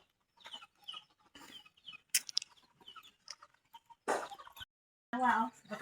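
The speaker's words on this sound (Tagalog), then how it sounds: "Daming manok dito." Chickens clucking on a farm in the Philippine countryside, short bursts of poultry calls scattered between stretches of people talking nearby.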